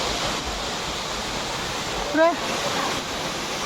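Steady broadband roar of the waterfall at Gundicha Ghati fills the whole stretch, loud and continuous, with a brief voice cutting in near the middle.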